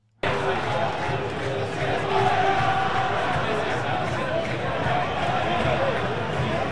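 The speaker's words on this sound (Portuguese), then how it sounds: "a torcida tá cantando time sem vergonha" A dense crowd of football fans in a stadium keeps up a loud, continuous chant during a Vasco match against Criciúma, a steady roar heard from a distance, with someone talking over it.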